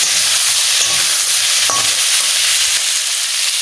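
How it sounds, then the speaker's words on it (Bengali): Food sautéing in a pan gives a loud, constant sizzle with occasional faint stirring clicks, no voices over it. "ভালো করে সুন্দর করে কষায় নেব"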